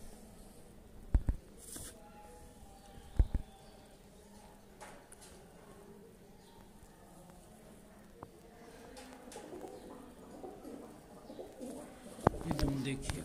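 Pigeons kept by a breeder coo softly in the background, with scattered knocks and rustles and a few louder clicks standing out above the low, quiet ambience.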